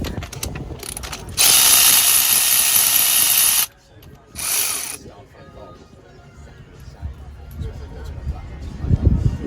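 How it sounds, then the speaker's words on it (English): A ratchet wrench works loose a car spark plug in two bursts of rapid, close, loud clicking, followed by quieter fiddling and handling noises. "let's pull a spark plug out and have a look what's going on in there"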